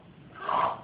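A child imitates a mother's loud snoring, giving a single short breathy, wheezing snort that swells and fades in under a second.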